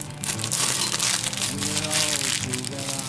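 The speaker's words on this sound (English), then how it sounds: "squish it around in the bag to combine the food coloring" Icing and food coloring are squished around inside a plastic bag, giving close, continuous crinkling and squelching while a person talks over it.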